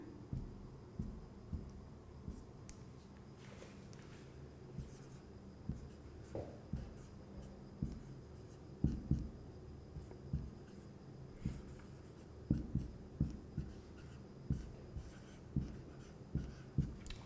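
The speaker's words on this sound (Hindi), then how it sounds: "अब इसको हम लोग लिखते हैं" Steady writing strokes on a board or paper during a maths lesson on conic sections, faint close scratches and taps coming in short repeated bursts with no talk.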